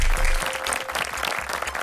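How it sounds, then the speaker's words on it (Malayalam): A quiz audience claps for a team that has just missed its chance. Loud, dense applause from a nearby crowd continues throughout, with a low rumble underneath. "നല്ലൊരു ക്ലാപ്പ് കൊടുക്കാം"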